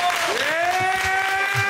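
A wrestling crowd cheers for Robb Radke, a steady roar of applause and shouting from the audience, with a whistle-like tone gliding across it.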